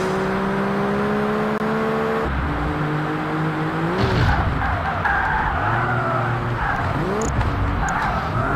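A car in Project Gotham Racing (PGR 2001) slides through corners, its engine droning and shifting pitch while tires squeal and skid in long sweeping glides, loud and close, with engine revs rising between slides.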